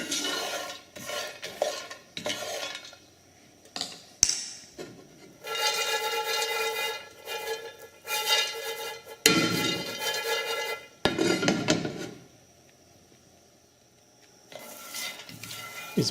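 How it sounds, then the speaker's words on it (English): Coffee beans being stirred while roasting in a pan, a steady scraping and rattling that comes in repeated bursts with short pauses, close and clear with no voices. "the key here to roasting coffee in a pan is to keep it stirred up."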